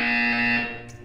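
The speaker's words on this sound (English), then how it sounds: "When you hear the buzzer, stare at the art." Buzzer tone from the Portal 2 video game test chamber: a single loud, steady electronic buzz with a strong harmonic stack, holding for about half a second before fading, with a faint blip near the end.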